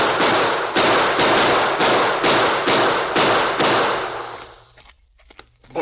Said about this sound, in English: Tonto. Use your guns.